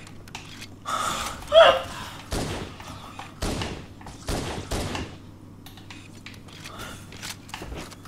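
Pistol shots in Halo CE, a handful of sharp bursts spaced a second or so apart, fairly loud against quiet game ambience, with a few breathy exclamations between them.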